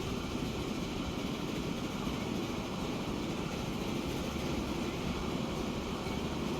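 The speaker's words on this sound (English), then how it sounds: "All right, that is that train." A train rolls along in the rail-building video game Transport Fever 2, a steady, dense rumble and rattle that continues unbroken and evenly loud throughout, with no talking.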